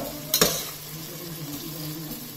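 Chicken pieces hitting hot oil with onions in a pan for chicken pulao. A brief sharp sizzle and stir come up front, then a low steady frying hiss carries on quietly.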